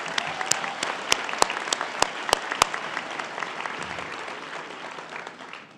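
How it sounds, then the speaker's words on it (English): A crowd at a 2025 high school graduation ceremony claps, dense applause with several sharp nearby claps early on, gradually thinning and fading toward the end. "Give her a round of applause."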